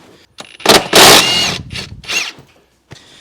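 Bolts being loosened and removed from the interior of a 2007 Subaru WRX, heard as a few short bursts of a powered driver whirring, with pauses and small mechanical clicks between them, close and fairly loud.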